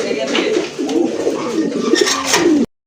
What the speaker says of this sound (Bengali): দেখেন কতটা কোয়ালিটি ফুল কবুতর, কতটা অ্যাক্টিভ কবুতর